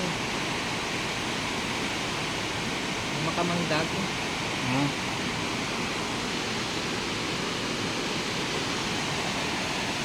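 Floodwater of the Science Park River in Cabuyao, Laguna rushes in a loud, steady roar throughout, with a voice briefly speaking over it midway.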